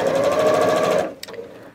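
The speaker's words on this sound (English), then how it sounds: "So let's go ahead and sew our rows together." A sewing machine stitching quilt block rows together runs at a fast steady hum for about a second, then stops, with a faint click afterward, loud and close.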